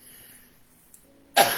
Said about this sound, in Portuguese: estamos caminhando com tosse e tudo